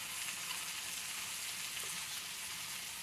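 A paste of ginger, green chili and garlic fries in hot oil for a Bengali jackfruit and prawn curry, giving a continuous dense sizzling hiss at steady loudness with no talking.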